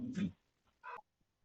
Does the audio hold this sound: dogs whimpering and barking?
yes